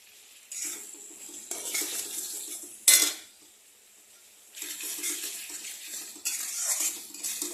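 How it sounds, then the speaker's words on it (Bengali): Fish and potatoes being stirred and sautéed in a pan with chilli powder, a steady scraping and clattering of utensil against metal in several long passes, with one sharp clank midway. "এখন এটা আলুর সাথে এটাকে এখন ভালো করে কষাবো"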